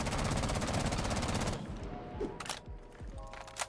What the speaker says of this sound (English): Now if I switch it back to flash hider, like how I normally have it, I'm gonna aim at the same spot right here.